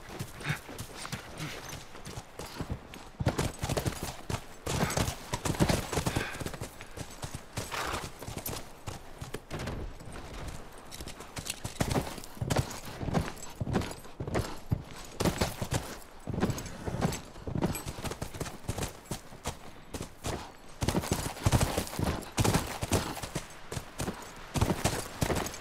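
Steady clip-clop of horse hooves walking on hard ground in a video game, The Last of Us Remastered, close and rhythmic, continuing for a long stretch with no talking.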